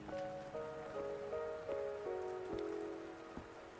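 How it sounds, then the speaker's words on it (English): Steady rain patters on surfaces in the video game Wuthering Waves, a continuous soft hiss under gentle sustained musical tones, with a few sharper drops standing out. "Are you trapped here by the rain?"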